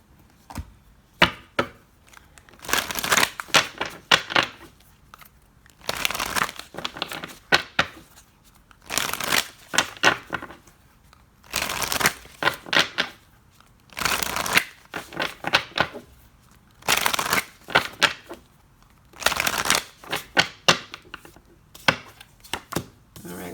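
Tarot cards being shuffled by hand in repeated bursts of crisp riffling and flapping, each lasting a second or two with short pauses between, close and fairly loud with no talking.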